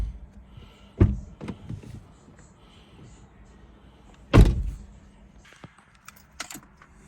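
A 2006 Honda Accord door handle clicks and the door thunks open after a door cable repair, followed by a second louder clunk and a few faint rattles.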